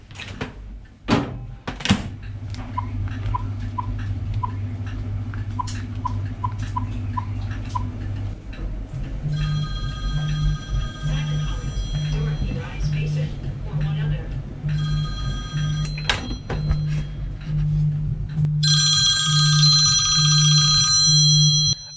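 A mobile phone rings while shut inside a microwave oven, a repeating electronic ringtone pattern over a steady oven hum, with clicks and a door opening, then beeps; people talk briefly nearby.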